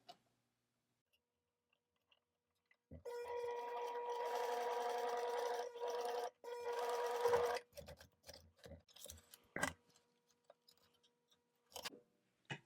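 A sewing machine stitches a zipper pouch in a steady, close whirring run of about four seconds. A short pause breaks it, then another brief burst, and scattered handling clicks follow.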